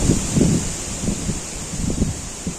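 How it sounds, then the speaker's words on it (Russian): Strong wind blows on a river bank during a fishing trip, rumbling against the microphone in low, uneven gusts over a steady hiss. "Вот, ветер вообще ужасный."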